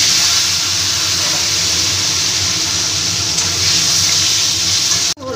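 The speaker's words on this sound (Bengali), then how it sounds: "এবার কেটে রাখা মূলো আর আলুটা দিয়ে দিচ্ছি। মূলো আলু দিয়ে একটু ভেজে নেব।" Radish and potato pieces frying in hot oil in a Bengali home kitchen, a steady loud sizzling hiss that fills the whole stretch before cutting off abruptly at the very end.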